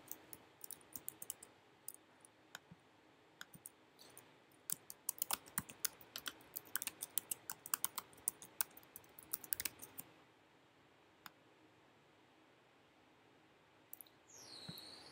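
Quick, irregular keystrokes on a computer keyboard as a username is entered, a clustered burst of clicks running for about ten seconds, then a pause and a brief final tap.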